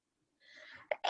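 One sudden sneeze, close and fairly quiet, preceded by a short indrawn breath.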